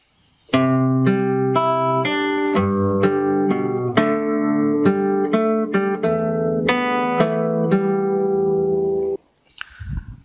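Fingerstyle acoustic guitar phrase, with plucked notes and ringing chords over a sustained bass, played close and clear for about nine seconds before stopping, with only faint handling noise afterward.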